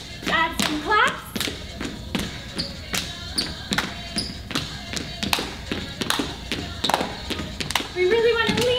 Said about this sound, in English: Add some claps.